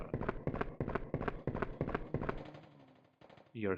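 Rapid gunfire from a weapon in the video game RE Survivor, a string of loud, evenly spaced shots for about two and a half seconds, then a brief lull and a short final burst of game sound.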